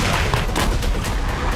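Bombardment, gunfire and artillery fire along the Syrian border form a loud, dense barrage of overlapping booms and cracks, with several sharp bursts in quick succession and no talking.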